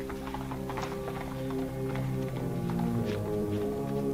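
Steady rhythmic hoofbeats of a horse clip-clopping, heard under a constant droning, tonal background, with no talking.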